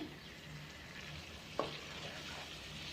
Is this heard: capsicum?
yes